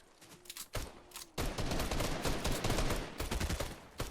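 Bursts of gunfire in Fortnite, a few quiet shots followed by a loud, dense volley of rapid automatic fire that stays sharp and close.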